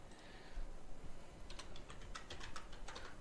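Keys clatter on a computer keyboard in a quick run of faint, close taps in the second half, over a low background hum.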